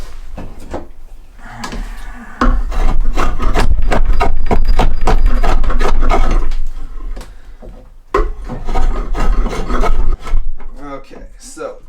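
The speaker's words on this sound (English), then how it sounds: "So now we're gonna hit it with the draw knife." A draw knife shaves an oak crate board being carved into an axe handle, rough rasping strokes that repeat in bursts, loud and close, with brief pauses between passes.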